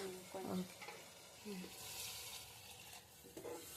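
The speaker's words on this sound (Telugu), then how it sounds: "ఒక 5 నిమిషాలు వేగనివ్వాలా." Mutton sherwa sizzles quietly in a pan with tomatoes while a utensil stirs and scrapes, with occasional soft clinks and a steady frying hiss.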